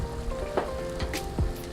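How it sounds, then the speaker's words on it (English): Ground meat for spaghetti bolognese sizzles and browns in a pan, a steady close crackle with a few soft knocks and scrapes from stirring. "you're just gonna have it cooking till your meat is brown and there's no excess liquid left"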